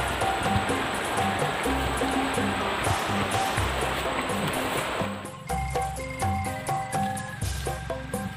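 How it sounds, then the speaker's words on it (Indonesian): Fast-flowing stream water rushes in a thick, constant roar that eases somewhat partway through, with indistinct voices and scattered knocks under the flow. "deras banget ini air, aku takut ke bawah"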